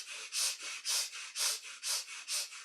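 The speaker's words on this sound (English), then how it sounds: "Continue, just breathe." Deep rhythmic breathing during a guided breathing exercise, with about six steady inhale-exhale cycles of airy, close breath sounds and no talking.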